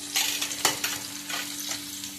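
Tempering spices and onion sizzle briefly in hot oil, a close, crackling hiss with a couple of sharper spits and stirring scrapes, no voices.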